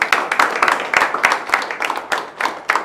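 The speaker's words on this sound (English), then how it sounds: "Give yourselves a round of applause." A group of people claps together in a round of applause at a gathering, dense overlapping claps with a few louder individual hits, steady for about three seconds.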